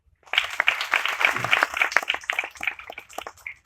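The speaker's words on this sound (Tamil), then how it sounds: "கைத்தட்டு." Audience clapping at a Tamil film music launch event, a burst of dense applause from the crowd lasting a few seconds.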